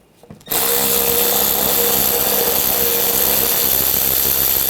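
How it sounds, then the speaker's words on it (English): A power tool backs a screw out with a 7mm socket on a 2013-2022 Buick Encore 1.4L during headlight replacement, a steady loud whirring drone after a brief quiet start. "Using a 7mm socket, take this screw out"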